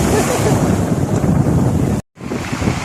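Loud wind buffets the microphone over rushing, big sea waves out at sea, a constant roaring wash with a brief dropout near the end.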